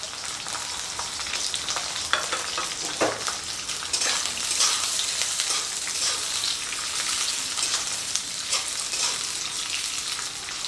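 Steady crackling sizzle of capsicum and onion frying in a hot pan, with a few scraping stirs, continuous and close by, no voices.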